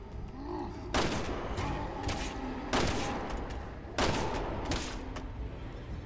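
Sniper rifle fire in Resident Evil 6: three loud, sharp shots spaced a second or more apart, each ringing out with a booming tail over low game ambience.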